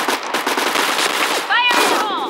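Rapid automatic machine gun fire rattles out in close, loud bursts in a CS:GO-style video game, with sharp ricochet-like whines near the end.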